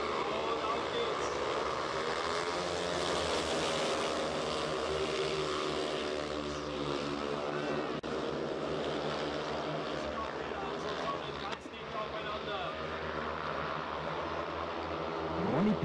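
Speedway motorcycles racing on a track in Pocking in 2003 after a restart, their engines forming a continuous, loud droning roar whose pitch rises and falls steadily throughout.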